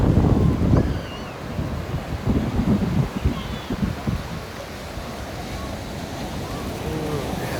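Ocean surf rolls in at Huntington Beach, California, a steady broadband wash with heavier low surges in the first few seconds, mixed with gusting wind noise across the microphone and no clear talking.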